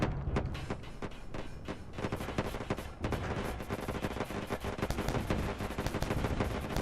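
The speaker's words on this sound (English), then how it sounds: "Fire a couple missiles." Missiles and weapons fire in the space game Wayward Terran Frontier, a dense, continuous barrage of loud launch bursts and thumping impacts layered over one another with no pauses.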